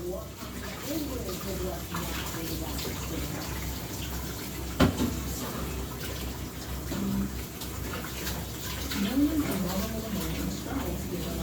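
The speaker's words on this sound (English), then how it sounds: "Almost done washing the dishes, y'all." Dishes being washed at a home kitchen sink with the tap running, a steady close rush of water broken by occasional clinks and knocks of dishes.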